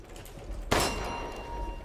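A single bell struck once in Resident Evil Village, a sharp metallic clang with a long ringing decay over a faint ambient background.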